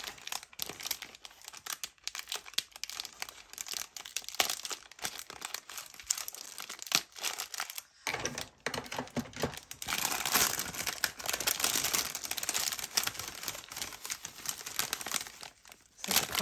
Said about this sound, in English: I'm going to have to snip the top of the bag.